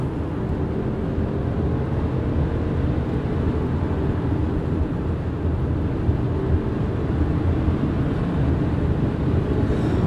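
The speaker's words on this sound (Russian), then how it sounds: "Ты нажимаешь педаль в пол, и просто машина уверенно срывается вперед." Audi A6 quattro ultra with a 2.0 TFSI 245 hp engine pulling hard at highway speed: a steady, loud low rumble of engine and road noise that holds even throughout, with no voices.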